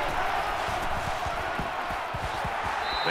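A steady, loud roar from a stadium crowd in the NCAA 14 football game, a constant wash of noise with faint thumps underneath, running unbroken throughout.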